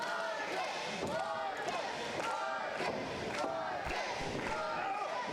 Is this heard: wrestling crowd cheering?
yes